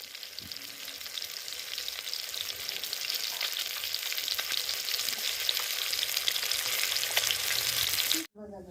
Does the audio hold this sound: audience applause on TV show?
no